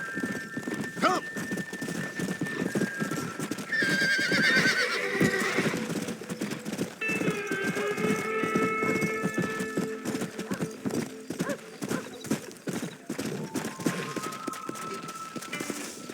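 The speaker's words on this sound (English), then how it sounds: "Look at these here horses." Horses whinny loudly several times over steady trotting hooves in the video game Red Dead Redemption, with a busy outdoor backdrop and no talking.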